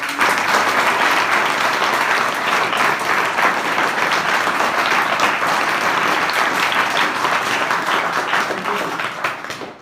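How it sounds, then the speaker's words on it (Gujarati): A crowd gives a long, vigorous round of applause for teachers who have just landed government jobs, many hands clapping densely and evenly for close to ten seconds before tapering off. "ખરે જોરદાર તાળીઓથી આપણે"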